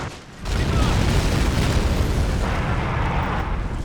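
Rocket strike explosions from an A-10 gun run in the war video game Assault Squad 2, a loud continuous rumbling roar of blasts that stays dense throughout.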